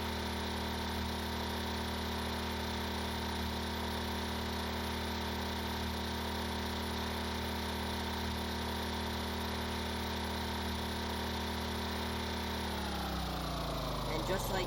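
A large modular engine built in the game Stormworks runs at a steady droning pitch and burns through its fuel quickly. Near the end the drone drops in pitch and winds down.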